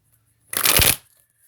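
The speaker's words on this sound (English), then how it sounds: "I'm going to go ahead and get busy with these cards here." A single quick riffle of a tarot card deck, a crisp burst of fluttering cards lasting about half a second, with near silence before and after.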